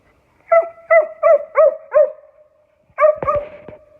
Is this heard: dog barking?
yes